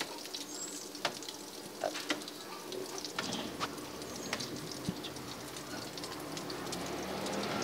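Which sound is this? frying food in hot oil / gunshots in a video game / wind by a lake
frying food in hot oil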